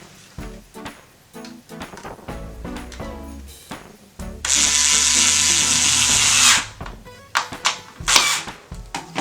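Cordless power drill driving screws out indoors, short whirring bursts and ratcheting buzzes, then one sustained loud high whine lasting about two seconds, followed by more brief spins and handling clatter.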